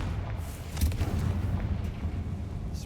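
A Confringo blasting curse explodes in the Hogwarts Legacy video game, a muffled low boom with a brief rumbling tail over a steady game-ambience hum.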